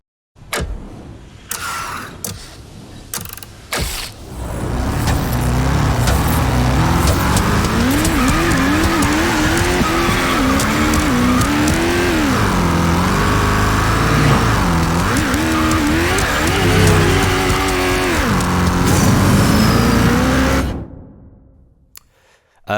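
Roaring racing car engines from Need for Speed Heat gameplay rev and shift continuously, with tire squeals and skids mixed in, loud and close, after a few brief bumps at the start.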